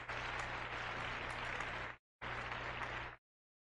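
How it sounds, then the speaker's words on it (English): A canned applause effect plays on a paranormal and supernatural open-line radio show: two quiet bursts of steady, hissy clapping, the second shorter, each ending in sudden silence. "a big round of applause for Natalie"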